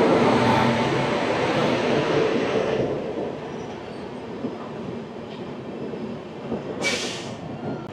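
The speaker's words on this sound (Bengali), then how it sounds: "এই আমাদের ট্রেন ঢুকছে আসানসোল জংশন।" The Sealdah-Bikaner Duronto Express rumbles steadily through Asansol Junction, a loud continuous roll of wheels on track that eases slightly midway, with a brief sharp squeal near the end.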